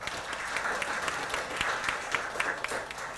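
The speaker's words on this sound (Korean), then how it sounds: "우리 스스로 자축하는 환영 박수 부탁드립니다" Applause from an audience of disabled attendees and local residents at a human rights advocates' forum in Jeonbuk, Korea, steady clapping across the whole stretch with no talk over it.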